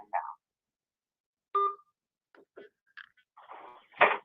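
A single keypad tone sounds as 3 is pressed on a phone during an automated call. It is short and clear, and a few faint blips and bits of recorded voice follow.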